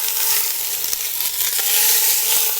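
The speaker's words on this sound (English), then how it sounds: "just brown them a little bit. Try if possible to sear on all sides." Pieces of pork leg searing in hot fat in a deep pot, a steady bright sizzle with faint clicks and scrapes running throughout, no voices.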